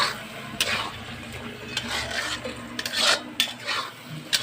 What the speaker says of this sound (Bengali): এটাকে ভালো করে এবার কষাবো কষাবো কষিয়ে নিয়ে তারপর নামাবো